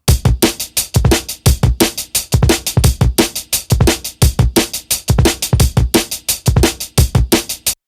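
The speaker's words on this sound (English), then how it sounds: "add some saturation through Little Radiator by Sound Toys" Breakbeat drum loop run through the Sound Toys Little Radiator saturation plugin: punchy, crunchy kicks, snares and hats in a steady, driving rhythm, loud and upfront with no voices.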